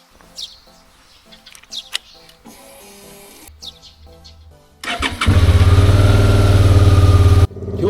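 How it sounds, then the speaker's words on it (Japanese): Birds chirp in quiet morning air before a vehicle engine cranks and catches at once, settling into a loud, steady close-up idle that runs for several seconds. "今日もエンジンの始動は絶好調です。"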